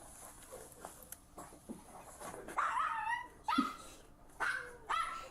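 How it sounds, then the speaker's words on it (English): A puppy whimpers and yelps in a few short, high, rising cries spaced a second or so apart, fairly close, with faint background noise between them. "That poor puppy don't get what's happening."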